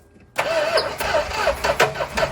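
A big-block V8 in a Plymouth Trail Duster, left broken since 2002, cranks over with the starter whirring in an uneven rhythm, loud and close, without catching.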